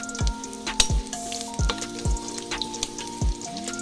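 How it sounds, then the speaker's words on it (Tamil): Dried red chillies, broken in half, sizzle and crackle in a hot pan as they are stirred, with soft repeated scrapes and pops heard up close and no voices. "காஞ்ச மிளகாவும் நல்லா வதக்கிக்கலாம்"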